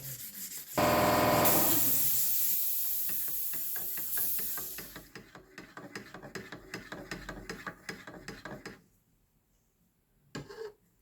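Primed John Deere 5410 tractor parts are sanded flat. A loud hissing burst comes first, then a run of quick, repeated rubbing strokes close by that fade into near silence before a brief final scrape.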